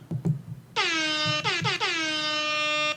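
A loud air horn blasts in three bursts, the last one held steadily for over a second, after brief soft noises at the start.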